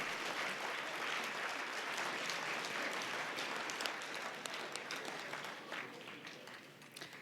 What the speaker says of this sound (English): let's give another round of applause for Mamie and the Belgrade team